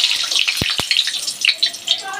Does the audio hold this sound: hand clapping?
no